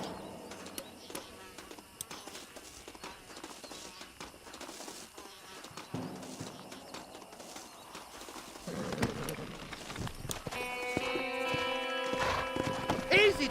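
Horse hooves clip-clop in a steady rhythm in Red Dead Redemption, mid-distance under outdoor ambience with insect buzz, while voices talk and music rises toward the end.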